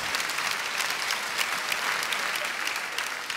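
Audience applause at an Eric Antoine comedy show, loose and ungrouped, a steady dense wash of scattered claps with no unified rhythm, sustained throughout.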